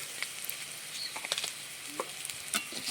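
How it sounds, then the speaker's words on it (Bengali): Spiced moong dal with turmeric and cumin is stirred and fried in a pan, giving a soft steady sizzle with scattered scraping taps of the spoon, close by and with no talking. "ডালটাকে একটু নেড়ে চেড়ে নিচ্ছি।"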